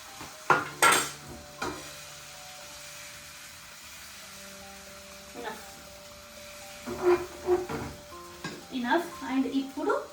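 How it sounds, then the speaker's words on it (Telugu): Egg omelette batter spread in a hot pan for an egg roll gives a faint sizzle broken by clinks and scrapes of a utensil against the pan, with a person talking over it. "సో ఇప్పుడు ఈ ప్యాన్ హీట్ అయింది కదా, ప్యాన్లో చపాతీ సైజ్కి సరిపడా ఆమ్లెట్ వేయాలి."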